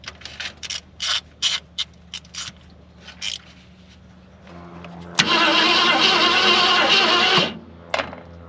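A long-parked Ford Galaxie XL, sitting 38 years, cranks over: several short ratcheting starter bursts, then a loud sustained cranking roar lasting about two seconds before cutting off, with a brief final burst, close up and alone.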